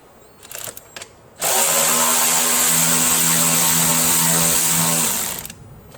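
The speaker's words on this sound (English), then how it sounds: "So grab your ratchet, socket, take out the first one." A ratchet and socket loosen a 10mm bolt on a 2019-2024 Ram 1500 with the 5.7L Hemi engine. A few faint clicks come first, then a loud, steady motorized whine runs for about four seconds, close up, before stopping.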